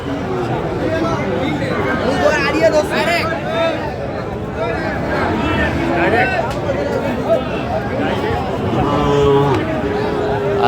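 Cattle, including young Sahiwal bull calves, moo repeatedly over a loud crowd babble of people talking, with several lowing calls near and far in a busy calf market.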